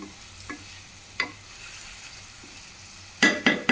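Salt being stirred into a tomato dish in a pan, heard as a few brief scraping strokes, with a louder cluster of clanks and scrapes near the end over a low background hum.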